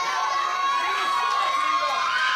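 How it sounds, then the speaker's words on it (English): Arena crowd at a televised AEW professional wrestling match between Gavin Glass and Daniel Garcia, cheering and shouting in a steady, dense roar throughout, with no individual voice standing out. "The crowd's getting behind Garcia here"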